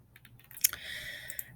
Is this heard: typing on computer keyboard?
yes